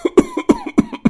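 A cartoon father-in-law coughs in a rapid series of harsh, close coughs, about five or six hacks in a little over a second, loud and without any talking.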